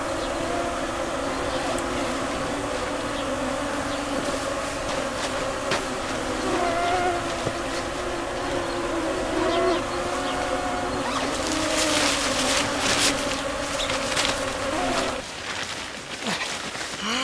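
Mosquitoes in a forest hum in a steady, high whining drone that continues throughout, fairly loud and close, with scattered rustles and a few clicks, fading slightly near the end.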